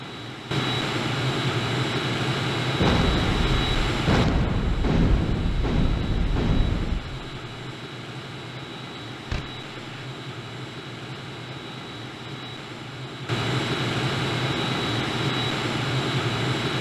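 Jet aircraft engine noise in the F-16 (1997) flight game, a loud continuous roar that surges and crackles for a few seconds, then drops to a steadier, quieter hum before swelling back to full strength.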